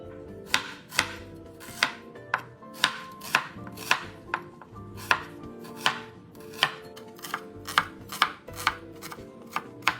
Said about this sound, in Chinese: 洋葱一样切碎，